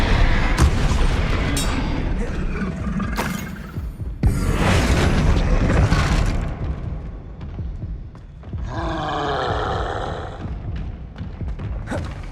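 Bombarda blasting spell explosions in Hogwarts Legacy: heavy, loud booms and thuds in quick succession over dense game sound, followed by a voice speaking briefly near the end.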